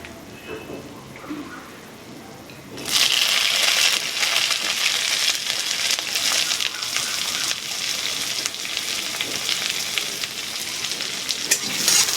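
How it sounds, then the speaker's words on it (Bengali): Chopped onion and green chillies drop into a hot pan while cooking egg-and-five-lentil dal, and a quiet murmur jumps into a loud, dense, continuous sizzle that stays close and steady, with faint stirring scrapes. "এর মধ্যে দিয়ে দেব কেটে রাখা পেঁয়াজ আর কাঁচা লঙ্কা।"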